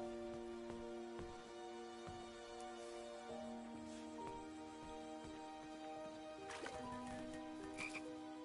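Frogs croak in the King's Quest video game, a faint, steady chorus of repeated croaks over a soft sustained musical background.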